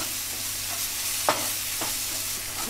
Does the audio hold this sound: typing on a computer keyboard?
no